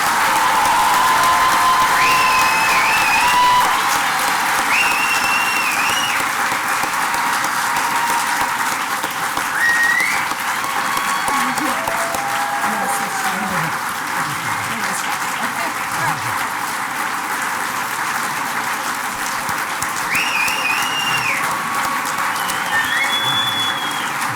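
Audience at a medical school white coat ceremony applauding to welcome the incoming class, sustained loud clapping with some cheers and whistles that slowly eases, voices talking faintly beneath.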